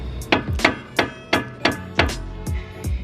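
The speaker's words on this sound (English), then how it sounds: "it's good to have like a nice mallet. You hit at the bottom of the coilover" A mallet strikes the bottom of a rusty coilover on a Honda Civic Si FA5 about nine times, sharp close metallic thuds in a fairly steady rhythm, no talking.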